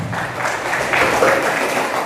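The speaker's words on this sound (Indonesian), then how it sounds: "Tepuk tangan ya." Applause from an audience at a high school orientation event, a steady spread of clapping lasting about two seconds, moderately loud and fairly close.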